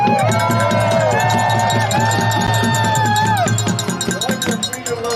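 A crowd at a Vets for Freedom rally cheers and whoops loudly and steadily, a dense wall of shouting voices that fades slightly toward the end.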